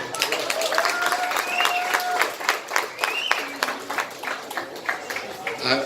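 Audience applause fills an indoor shopping-centre store opening, dense and steady throughout with some whistles and cheers rising above the clapping.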